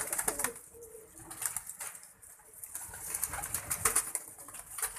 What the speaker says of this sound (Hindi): जोड़ वाले कबूतर